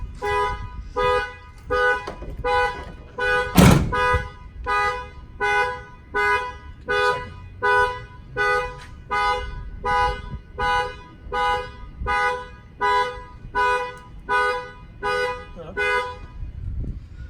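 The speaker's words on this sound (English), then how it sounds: "Go ahead and open up the tailgate. The alarm fire off." A car alarm blares nearby in a steady, evenly spaced pulsing honk that repeats over and over, with one sharp bang partway through.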